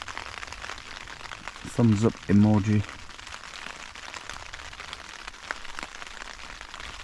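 Rain falls steadily on a tent during a night of wild camping, a soft continuous patter that fills the whole stretch, with a person briefly speaking partway through.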